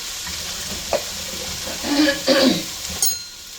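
Onions frying in olive oil in a skillet give a steady close sizzle, with a few louder scraping stirs partway through.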